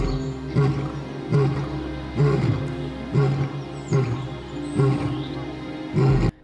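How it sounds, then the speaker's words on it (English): An African lion roars repeatedly in a steady rhythm of deep, grunting calls, loud and close, with short pauses between each bout and no talking. "Who's none other than the African lion?"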